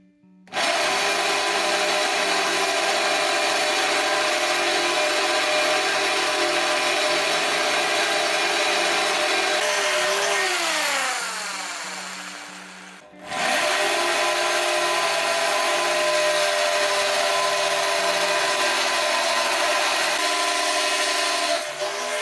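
A power drill fitted with a 12mm bit bores steadily with a loud grinding whine, then winds down and briefly stops before starting up again and running continuously.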